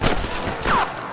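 Gunfire aimed at rustlers in a western video game, a dense burst of near, loud shots overlapping one another in quick succession.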